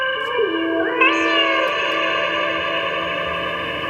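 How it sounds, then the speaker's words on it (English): A cat's meow drenched in a huge, lush Eventide studio reverb, the cry sliding upward and then hanging in a long, smooth, sustained echo tail that rings on evenly to the end. "Just put a big reverb on the cat."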